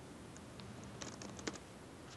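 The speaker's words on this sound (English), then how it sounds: "What are you typing on?" Typing on a computer keyboard during a pair-programming coding session, with a steady stream of close, irregular key clicks and a few sharper, louder strikes standing out near the middle, and no talk over it.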